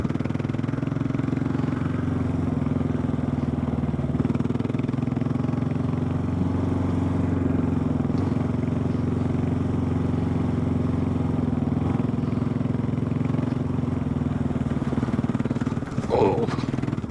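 A Kawasaki KLR 650 motorcycle rides on gravel roads, its engine droning steadily and close with a constant low hum throughout, plus a brief clatter near the end.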